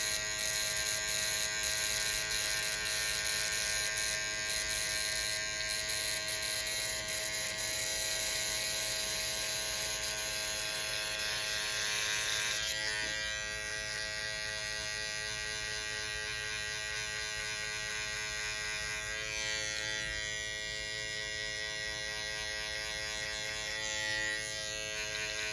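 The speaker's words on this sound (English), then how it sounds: "Using the corner only, take your trimmer and just lightly tap at that line." Electric hair trimmer buzzing steadily close by while its corner lightly taps along a fade line during a bald fade haircut, the tone shifting slightly as it touches the hair.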